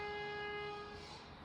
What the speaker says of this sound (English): Oh, the honking.